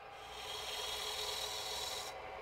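Wood turning on a lathe while shaping a candlestick foot, a steady rasping scrape of the tool against the spinning workpiece, sustained for about two seconds, close and moderately quiet, with no talk.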